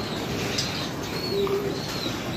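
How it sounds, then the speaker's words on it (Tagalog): A flock of pigeons coos in soft, repeated calls while wings flap as birds take off, all over a constant outdoor hiss with no talking. "Magbubulat na lang yung mga taga dito, ang daming humilipad ng ibon."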